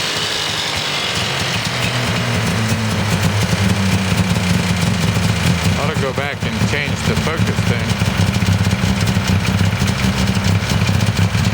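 DKW two-stroke engine with modified ports in an Auto Union Silver Arrow replica on a 1000S chassis idles with a steady, buzzing low drone. Someone speaks briefly over it.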